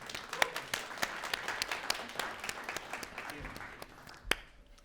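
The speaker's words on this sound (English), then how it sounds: "A big round of applause for Kenneth North, please." Indoor audience at a talks event applauds to welcome a speaker onto the stage, a fairly quiet, scattered patter of individual claps that holds steady for several seconds, with one sharper clap near the end.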